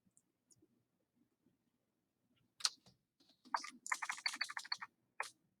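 Typing on a computer keyboard while writing in a Google Docs document: a few faint taps at first, then a quick, close burst of key clicks near the end.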